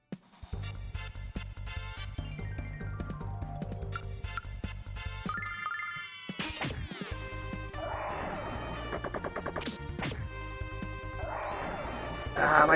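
Kitchen upgrade sounds in a cooking video game: rapid repeated clicks and chimes stacking up continuously, with crashing flourishes and rising jingles, moderately loud and steady throughout.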